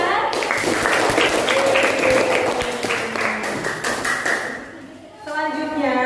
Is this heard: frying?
no